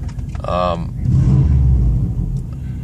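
A car engine idling on a cold start gives a steady low rumble that swells louder partway through, with its idle being adjusted to run higher while cold, and a brief voice near the start.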